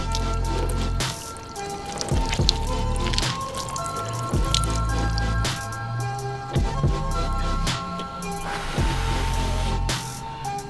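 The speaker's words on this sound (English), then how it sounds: "we're gonna pour some water on there and watch it run off." Water poured over a car body freshly finished with a UV ceramic coating, beading and running off the panels; steady dripping and trickling runs close up throughout, over a low background hum, with no talking.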